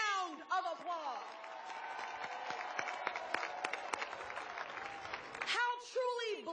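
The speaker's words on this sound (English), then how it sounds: "Let's give them a resounding round of applause." Audience applause at a public civic gathering rises under a speaking voice, scattered claps building into a crowd clapping mid-span before the speech resumes over it; the clapping stays fairly faint beneath the talk.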